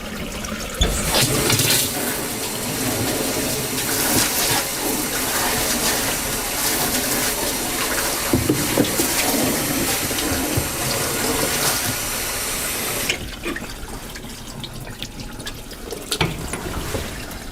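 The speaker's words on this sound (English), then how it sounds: "The next step is to open up the tank and thoroughly rinse this tank." Water rushing and splashing as the tank of a floor auto scrubber is rinsed out, a loud continuous gush close by that suddenly drops to quieter trickling near the end, with no voices.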